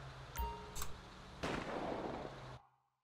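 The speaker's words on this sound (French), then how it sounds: "J'ai entendu un coup de feu" A single sharp gunshot-like blast with a short rumbling tail, over faint background game sounds, then silence, in GTA V with the LSPDFR police mod.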